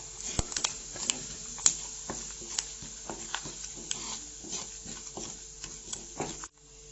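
A spatula stirs coriander powder and other spices into beef fry in a pan, making a steady low sizzle broken by soft, irregular scraping taps that stop abruptly near the end.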